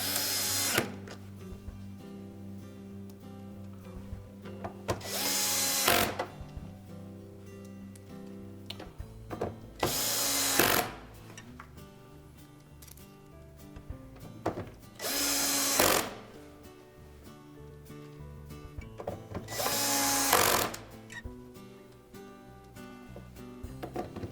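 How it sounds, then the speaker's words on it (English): A power drill drives screws back into the outer door panel of a Whirlpool washer, with four loud bursts of whirring spaced about five seconds apart and quieter handling and background sound between them. "Press it down into place and then reinstall the screws."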